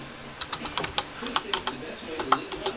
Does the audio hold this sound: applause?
no